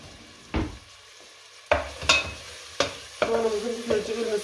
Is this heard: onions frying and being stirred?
yes